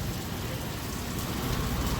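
Rain falls steadily in a dense, even hiss of drops on surfaces, continuous and fairly close, with no voices.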